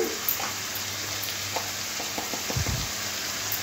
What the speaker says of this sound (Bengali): আদা রসুন ভালো করে কষা হয়ে গেলে কিছু গুঁড়ো মশলা এখানে অ্যাড করব।